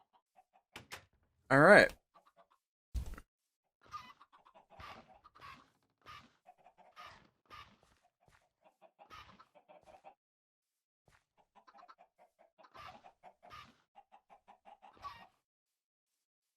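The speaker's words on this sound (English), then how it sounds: "feed these chickens" Minecraft chickens cluck in short, soft repeated bursts through a game session with the Better Than Wolves mod, spaced irregularly across sixteen seconds, with someone speaking briefly and a loud thump near the start.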